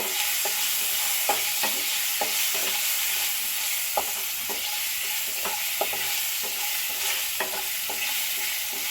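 Spices and turmeric powder fried and stirred in a pan, with a steady close sizzle broken by regular clinks and scrapes of the spoon for several seconds.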